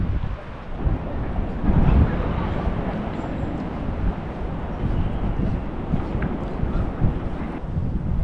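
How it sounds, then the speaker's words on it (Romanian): Very strong wind buffets the microphone on a hilltop by the main palace and cathedral, a loud, continuous roaring rush with gusty swells that never lets up. "Bate vântul extrem de tare aici sus."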